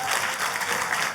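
A church congregation gives a short, enthusiastic round of applause, a steady rush of many hands clapping together.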